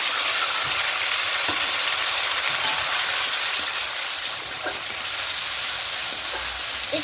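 Onion and tomato paste hitting hot oil with cardamom, cloves and bay leaves for a chicken curry, giving a loud, steady, close sizzle and hiss that continues without break.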